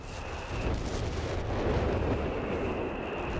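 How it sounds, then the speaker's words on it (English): Artillery barrage explosions in the strategy game Company of Heroes 3, a dense rumbling roar of overlapping blasts that swells and holds steady, fairly loud, without voices. "More barrages coming in"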